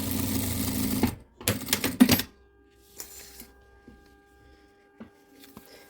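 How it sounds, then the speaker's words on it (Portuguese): Sewing machine topstitching a zipper with the zipper foot on a small hygiene kit bag, giving a short busy run of stitching followed by a few separate bursts, then quiet with faint clicks of handling. "agora eu vou fazer o rebatimento com o pé calcador de zíper"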